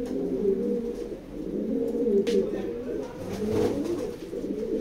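Racing pigeons coo steadily inside a loft, a dense, continuous murmur of low throaty calls from several birds close by, with a brief sharp knock partway through.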